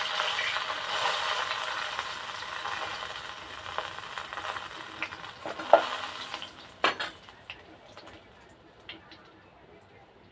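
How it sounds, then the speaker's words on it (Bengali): Potatoes frying in hot oil in a home kitchen give a steady, fairly loud sizzle that fades after a few seconds, followed by scattered metallic clinks of utensils against the pan. "আলুগুলোকে তেলে ছেড়ে দিলাম"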